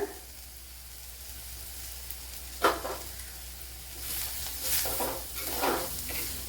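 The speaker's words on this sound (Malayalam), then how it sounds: "സവാള ഒന്ന് വയണ്ട് വന്നതിന് ശേഷമാണ് തേങ്ങ ഇട്ട് കൊടുത്തത്" Sliced onion sizzles in a pan with grated coconut added, a spoon stirring it in a few scraping bursts over a steady, quiet frying hiss.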